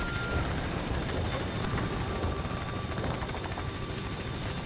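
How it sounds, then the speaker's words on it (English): Helicopters arrive in the Call of Duty Ghosts game, a steady loud broadband rotor-and-engine roar with a low pulsing thump that holds throughout, no talk over it. "Choppers are inbound"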